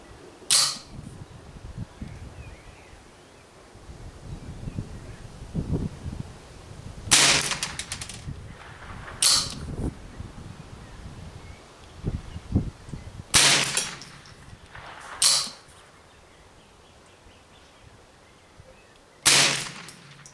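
Gunshots fired at a target on a range, several sharp reports scattered across the span, some in quick pairs, sounding moderately distant against quiet outdoor background noise.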